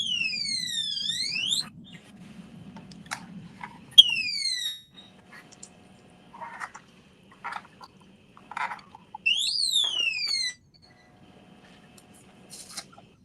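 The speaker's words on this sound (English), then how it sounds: "Some type of alarm going off right now, bro." An electronic alarm sounds in bursts of rising and falling sweeping tones, repeating in loud spells separated by quieter stretches with scattered clicks and knocks.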